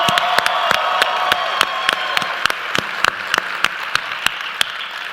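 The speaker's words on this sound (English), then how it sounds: "should we clap really loud so they can hear us through the wall as well?" A live studio audience applauds loudly, a dense wash of clapping with sharp individual claps standing out and faint cheering mixed in, steady throughout.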